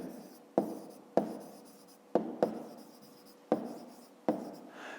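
Handwriting on paper, pen strokes in short scratchy bursts with sharp onsets roughly every second, close and quiet, no talking.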